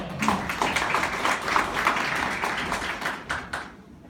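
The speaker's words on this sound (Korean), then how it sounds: "큰 박수로 맞이해 주시기 바랍니다" An audience at a startup pitch event welcomes a presenter with dense, steady clapping. It holds for about four seconds, then thins and fades out.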